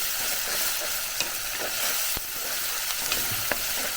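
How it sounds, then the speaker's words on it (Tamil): Ground chili stirred in a hot pan until browned, a steady loud sizzle with intermittent scraping strokes and a few sharp spoon taps, close up and without talking. "நல்லா மிக்ஸ் பண்ணி ப்ரௌன் கலரில் வரணும்"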